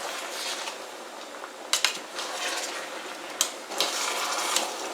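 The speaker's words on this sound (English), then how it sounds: "you should be able to hear that boiling" A steady hiss and bubbling of fruit cores boiling in a pot, with a few faint metallic clicks and taps scattered through.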